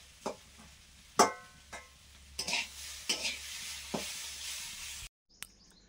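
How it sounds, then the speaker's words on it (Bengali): Beetroot and carrot fry in a pan with a steady sizzle, broken by several sharp spatula scrapes and stirs, close and fairly quiet, with no talking. "বিট গাজরটা ভাজা করে নিচ্ছি।"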